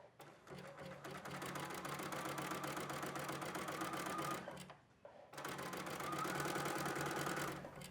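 A sewing machine stitches along fabric edges, humming in a close, fast, even run, stopping briefly just before the five-second mark, then resuming just as steadily.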